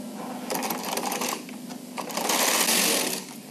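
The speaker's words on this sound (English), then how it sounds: "Rethread the carriage in the usual way and knit one row." A Bond Classic knitting machine carriage slides across the needle bed knitting a row, producing a rapid clattering, ratcheting rush that swells and fades over a few seconds, close and fairly loud.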